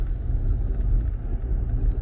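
A vehicle engine rumbles steadily close by, a low, continuous drone of a Ford Ranger pickup truck rolling past with some wind noise.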